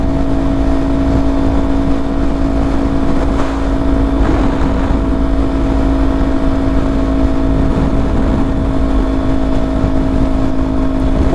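A Kawasaki Ninja 400 motorcycle cruising on the road, its steady engine hum with a high whine running under heavy wind buffeting, loud and constant, with no talk.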